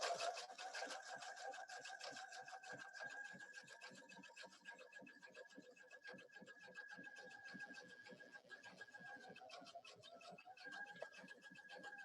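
A sewing machine runs steadily, stitching a satin-stitch applique with a rapid, even needle rhythm that continues for the whole stretch at a moderate, close level, with a faint hum in the background.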